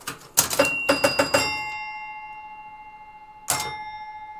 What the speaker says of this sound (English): That fires the bell.